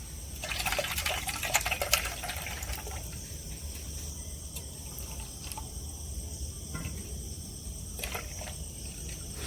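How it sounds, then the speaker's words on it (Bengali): Milk pours from a container into a bowl of ripe mango pulp and yogurt for mango curd, a soft close trickle and splash that fades into quiet room noise. "আমের সাথে অর্ধেক দুধ মিশিয়ে নিয়েছে না এবার ঢেলে দিচ্ছি এর মধ্যে"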